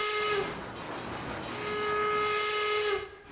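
An old steam train sound effect plays on a model railroad: a long, steady whistle blows over a rumbling, hissing wash of train noise that fades out at the end.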